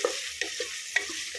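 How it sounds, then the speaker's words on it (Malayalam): Cumin seeds crackle and pop in melted butter inside a pressure cooker for pav bhaji, with a continuous close sizzle and scattered sharp spluttering bursts. "ഇത് കുക്കറിലേക്ക് ഞാൻ ജീരകം ഇട്ടിട്ട് പൊട്ടിച്ചിട്ട് ഉരുളൻകിഴങ്ങ് ഇട്ട് കൊടുക്കുന്നുണ്ട് കേട്ടോ"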